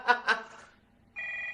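Two short trilling bursts of a telephone bell ring out loud and close, a pause follows, then a steady electronic tone sounds.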